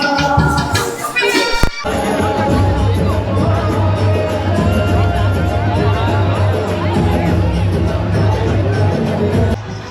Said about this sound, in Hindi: आप भीड़ देख सकते हो कितनी ज़्यादा भीड़ हो रखी है इस समय जगदीश चौक पर